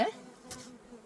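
Honey bees buzz at an open hive during a varroa mite check, a soft, steady insect drone with a brief louder swell midway, close and unaccompanied by talk.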